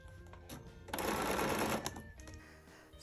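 A sewing machine runs on quilt sashing strips, a brief quiet start then a dense buzzing whir of rapid stitching for about a second before slowing and stopping, heard up close.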